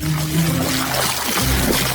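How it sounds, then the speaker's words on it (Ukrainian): Water poured out in a steady stream during a playful kitchen cooking challenge, a continuous splashing pour that runs loud and close for the whole moment with no talking over it. "Заливаємо воду."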